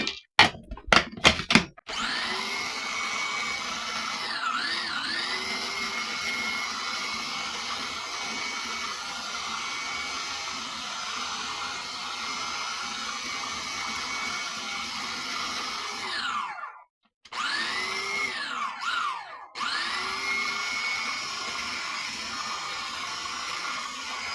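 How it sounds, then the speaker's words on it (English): Eggplant salsa ingredients ground in a food processor: a few quick pulses, then a long, steady, loud whirring motor run, cut by two brief pauses near the end. No talking. "let's grind this up to see."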